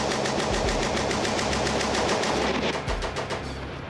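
A World War One machine gun firing rifle ammunition on a shooting range rattles out a long, loud, rapid and steady stream of shots close by with no voices.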